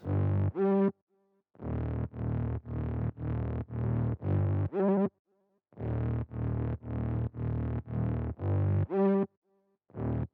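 A buzzy synth bass with a pitch LFO plays short rhythmic notes with a wobbling pitch sweep, in phrases separated by brief gaps of near silence.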